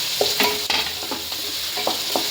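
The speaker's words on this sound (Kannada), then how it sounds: "ಟೊಮೆಟೊ ಚೆನ್ನಾಗಿ ಸ್ಮ್ಯಾಶ್ ಆಗೋ ತನಕ ಫ್ರೈ ಮಾಡಿ" Tomatoes stir-fried in a pan hiss with a constant close sizzle, while quick spatula scrapes and taps land in an uneven rhythm over the frying.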